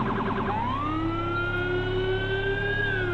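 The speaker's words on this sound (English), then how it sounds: "What do you guys think about my sirens? This is like the NYPD ones. With the rumbler and everything." A police siren in a GTA 5 undercover 2020 Tahoe, NYPD-style with a low rumbler, wails continuously and loud, a short yelping burst giving way to a long rising and falling tone over a steady low growl.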